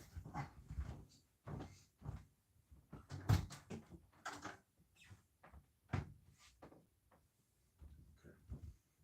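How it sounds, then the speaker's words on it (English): A door to the living room of a house opens, giving a series of sharp knocks, clacks and rattles spread across several seconds, close by with quiet gaps between them. "Maybe I'll open the door to the living room."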